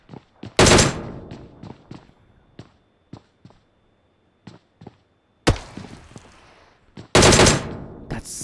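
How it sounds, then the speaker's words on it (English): K9 gunshots in a video game: two loud, sustained bursts of fire, one early and one near the end, with a sharp crack midway and scattered single distant shots between them, no voices. "Sounded like a K9 shot"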